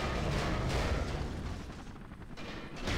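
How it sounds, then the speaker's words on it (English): A dense, rumbling explosion plays in a GameCube game emulated with Dolphin on an 8GB Raspberry Pi 4 running 64-bit Manjaro, a continuous loud boom that fades slightly before swelling again, with no speech. "that explosion tended to slow things down a little bit"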